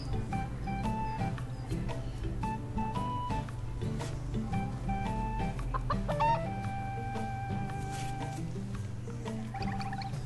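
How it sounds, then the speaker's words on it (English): Chicken clucking in the farming video game Harvest Moon: The Winds of Anthos, short repeated clucks over a steady bed of cheerful background music throughout. "Look, Dad, our chicken came back."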